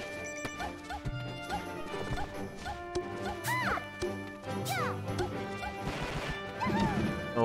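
Peach's down smash attacks landing in a Super Smash Bros. tournament match between two Peach players, sharp repeated impact hits mixed with game sound effects and music, under an excited commentator's voice.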